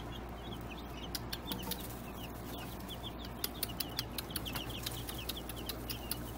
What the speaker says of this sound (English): We got roosters, you guys. At least three in there.